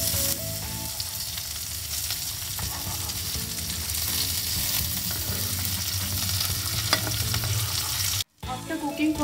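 Masala prawns fry in a pan with a dense, continuous sizzle, loud and close with occasional stirring scrapes, and a short break near the end before the crackle resumes.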